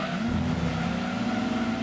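Video-game car from Gran Turismo 2 braking into a corner: a loud, steady engine drone with a slight pitch dip and a faint tire scrub, heard close with no voices.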